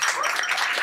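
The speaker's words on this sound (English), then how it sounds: "We want you to give yourselves a round of applause" Audience applause at a lively Democratic Party gathering: a brief, dense wash of many hands clapping at once, steady and fairly full, with no distinct voices standing out.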